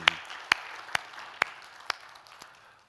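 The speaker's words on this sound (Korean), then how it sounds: "박수로 하나님께 믿음으로 영광 올려드립니다" Sparse, faint claps in a church service, six distinct hand claps spaced about half a second apart, quiet and slightly distant with little else around them.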